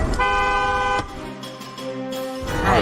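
A car horn blares in a long sustained honk, then a second, lower horn tone follows, loud and close amid road noise.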